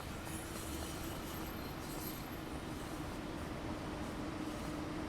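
A train rolls past in the Train Sim World 6 simulator, a steady, dense rumble of wheels and carriages holding at a constant level throughout, with faint high squeal on top and no talk.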